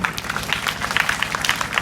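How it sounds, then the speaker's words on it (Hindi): Students in a school gathering clap together, a dense patter of hand claps that stays fairly even and moderately loud throughout. "जोरदार ताली मारे।"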